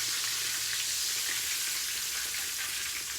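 A chicken fried steak sizzles in a black iron frying pan, a loud continuous crackling hiss with no pauses and no talk.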